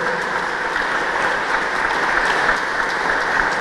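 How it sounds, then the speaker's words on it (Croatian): An audience at a formal city council ceremony for Labin's City Day gives sustained applause for young percussionists: dense, steady clapping throughout, fairly loud and close. "dajte još jedan aplauz"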